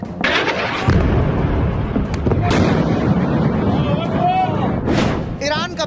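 Blasts and rumbling from airstrike footage of Israeli attacks on Iranian radar and air defence sites, loud and dense throughout with overlapping bursts and booms.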